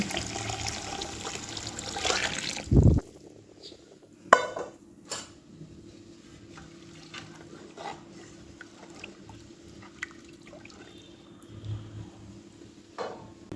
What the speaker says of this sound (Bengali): এখন এখানে আমি আগে থেকে গরম করে রাখা পানি দিয়ে দিচ্ছি